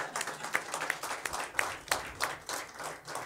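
Applause at a conference hall event on leadership and innovation comes as a sparse, fairly rhythmic run of distinct claps, about three per second, moderately loud over a quiet room.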